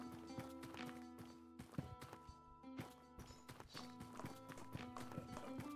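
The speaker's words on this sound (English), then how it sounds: "I hear the clapping of the horse" Horse hooves clip-clop in a tavern manager simulator game, a run of light, regular knocks sitting among steady musical tones and other game sounds.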